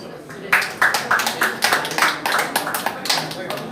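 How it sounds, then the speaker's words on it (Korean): A church gathering of pastors and supporters in a building auditorium breaks into clapping, starting abruptly and continuing as loud, fairly rhythmic claps. Some voices carry faintly beneath. "오늘 이 시간을 주신 하나님께 영광의 박수를 올려드리겠습니다."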